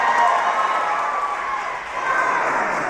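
A spectator crowd at a ninja obstacle course competition cheers and roars continuously, a loud, broad wash of voices that dips briefly before rising again.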